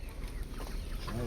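Country chickens clucking faintly at a market stall, soft scattered clucks under a noisy outdoor background.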